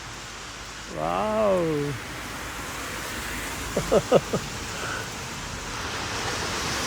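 Heavy rain pours outside a supermarket in Krakow as a steady, even rushing hiss throughout, while a person briefly exclaims and speaks over it.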